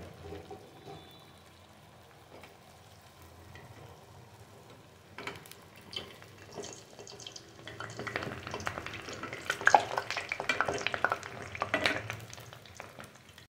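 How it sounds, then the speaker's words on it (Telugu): Urad dal garelu fry in hot oil, starting as a faint bubbling and growing into a busier, louder sizzle with stirring and turning sounds, and no one speaks. "పై కింద వేసిన ఈ గారెలను కూడా మనం అటు ఇటు తిప్పుకుంటూ కాల్ చేసుకోవాలండి"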